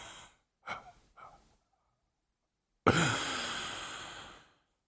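A few short breathy puffs come first, then after a pause one long, deep, airy exhale that pushes the lungs empty and fades out, close to the mic and fairly quiet.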